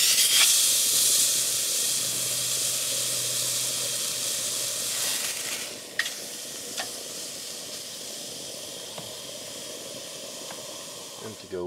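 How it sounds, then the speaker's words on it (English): A bison ribeye steak sears in a hot pan outdoors, a steady loud sizzle and hiss running throughout with a few sharp crackles and pops; no one speaks. "it should come out very nice medium rare with a nice sear on the outside"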